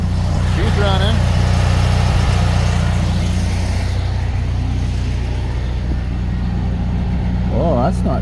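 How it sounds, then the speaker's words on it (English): A motorhome generator runs with a steady, loud, low mechanical drone that stays constant throughout, and a voice briefly speaks over it. "now let's go check our generator. She's running."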